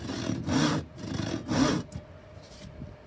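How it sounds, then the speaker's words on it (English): A panel saw cuts wood in two slow, rasping strokes with a lighter third, close and alone, each stroke a broad scratchy rush. "Okay, so that's the panel saw."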